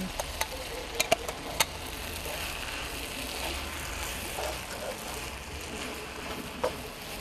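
Rice being stirred thoroughly in a pot for a potato pawa and spinach butternut curry, with a low sizzling simmer and several sharp spoon clinks and scrapes clustered early, then a quieter stretch and one more clink near the end.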